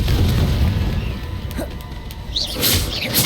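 Confringo blasting spell in Hogwarts Legacy fired in combat, a heavy booming burst with crackling magical sizzle and bright high sparkle near the end, loud and close over continuous rumbling battle noise.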